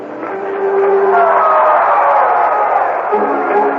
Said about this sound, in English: A big cheer goes up for the switch-hitting Wes Parker as he steps into the batter's box